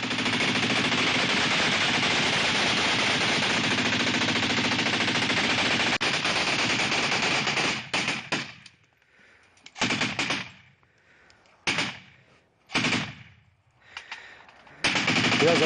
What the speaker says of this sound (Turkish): Sıcak çatışmaların yaşandığı Surki köyündeki çatışma anları ekranda.